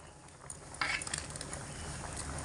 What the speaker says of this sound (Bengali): এইবার আমি আলুগুলোকে দিয়ে দিচ্ছি।